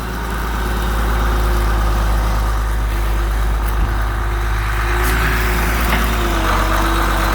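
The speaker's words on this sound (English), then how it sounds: "once it warms up a little bit, rev it all the way up, dig a little bit with it" A Case 1080B excavator's diesel engine runs loud and close, a heavy low rumble that holds steady with slight shifts in pitch as the throttle rises, with no talking.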